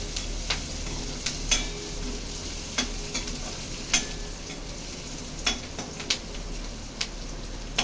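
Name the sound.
onion being stirred and fried with salt in a pan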